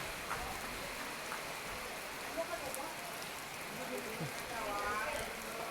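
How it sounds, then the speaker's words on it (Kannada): Steady rain falls during a monsoon train journey from Mangalore toward Udupi on the Matsyagandha Superfast Express, a continuous soft wash of drops under the hum of the moving train, with faint background voices. "ವಾಪಸ್ ಮಳೆ ಸ್ಟಾರ್ಟ್ ಆಗಿಬಿಡ್ತೆ"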